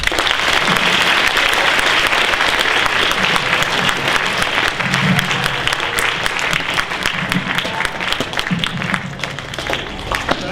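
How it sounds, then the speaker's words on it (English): A crowd at a college admission panel gives the panelists a big round of applause, sustained dense clapping with sharper individual claps standing out, continuing at a steady level throughout without speech. "let's give them a big round of applause"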